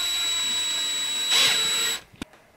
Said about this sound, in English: just sanding off a nice curved edge